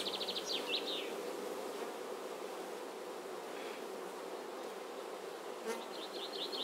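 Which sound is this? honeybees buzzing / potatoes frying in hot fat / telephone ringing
honeybees buzzing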